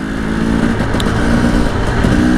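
Two-stroke motorcycle engine running close and loud with a steady, buzzing idle and slight rises in pitch, kept at low revs while attempting a wheelie.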